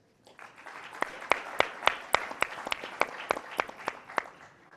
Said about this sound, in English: Please join me with a round of applause welcoming this distinguished guest.